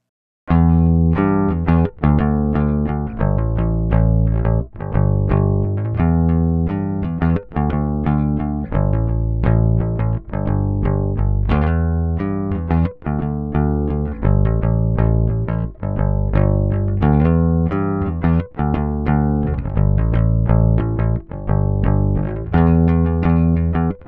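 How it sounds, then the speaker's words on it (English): A clean electric bass through a Universal Audio Solo 610 preamp plays a steady, busy line for the whole stretch, round low notes plucked in quick succession with no voices. "let's check out just the bass by itself, what it sounds like"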